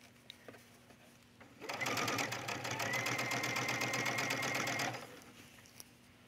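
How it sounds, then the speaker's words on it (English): Sewing machine stitching along a tunic collar runs in a steady, rapid mechanical chatter for about three seconds, starting and stopping cleanly against a quiet room. "I'm stitching right next to this collar and I can feel my seam allowance underneath."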